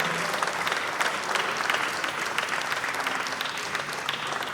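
An audience applauds to welcome guests on stage at an inaugural lamp-lighting ceremony for a South India transmen pageant, with continuous, even crowd clapping throughout.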